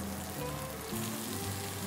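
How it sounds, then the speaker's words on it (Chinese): Minced garlic sizzles in a pan on the residual heat, a steady, soft, crackling hiss heard close and alone, with no voices. "这边用锅子的余温把蒜头炒到有点香气出来"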